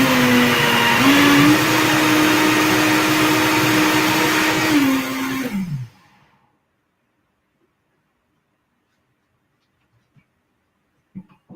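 A Vitamix blender churns a frozen mixture with a loud, steady whirring roar that shifts pitch a couple of times before spinning down and stopping, leaving near silence with faint handling noises.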